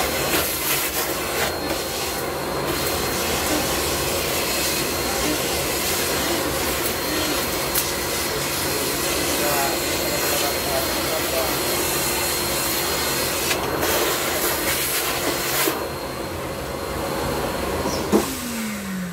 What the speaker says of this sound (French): Et tout ça avec un aspirateur de récup